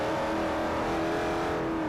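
A Lexus SC430 engine in the Forza 4 racing game holds a loud, steady high-rev drone for the whole stretch, close and unbroken, while drifting.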